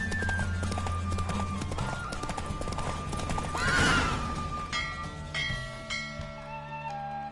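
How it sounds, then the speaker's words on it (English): Horses gallop in a race in The Witcher video game, their hooves clip-clopping steadily and loud, with a clear neigh in the middle over a game soundtrack, and no one talks. "Don't spare the horse!"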